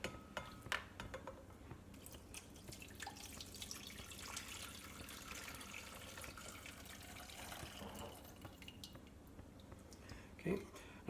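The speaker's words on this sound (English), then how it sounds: "So we're going to strain our liquid from our skillet." Liquid from a beef rouladen skillet is strained off, giving a steady wet trickle and dripping with a brief louder splash near the end, while a person talks over it.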